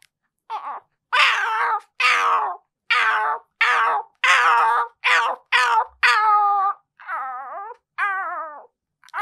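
A person imitates a cat, producing a string of about a dozen loud, close, separate meows and drawn-out yowls, each a second or less long with short gaps of silence between them, rising and falling in pitch.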